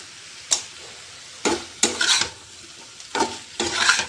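A spatula scrapes and stirs a curry seasoned with roasted spice powder and sugar in a pan: five short, rough bursts with pauses between, close and fairly loud, with no talking.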